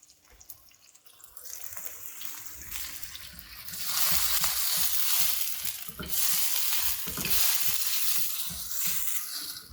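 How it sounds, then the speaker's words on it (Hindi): Steady sizzling and crackling from onions frying golden in a hot pan with cumin seeds and cloves, growing louder partway through, with occasional clinks of a utensil stirring. "अनियंस को हम सुनहरा कर रहे हैं"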